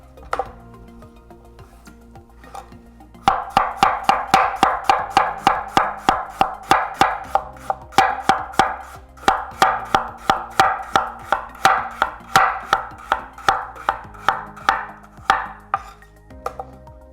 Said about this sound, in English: Now I'm going to cut the potatoes.